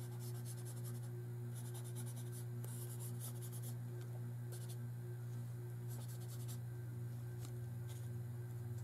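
Pencil drawing on paper while sketching a bunny, soft scratchy strokes in short bursts over a steady low electrical hum, close and quiet.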